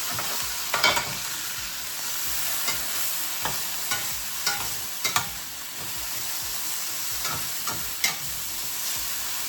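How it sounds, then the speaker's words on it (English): Onions sizzle and fry steadily in a pan while being stirred, with sharp scraping clicks of the utensil every second or so over the constant hiss of hot oil. "let's move these onions a little. Get a little char."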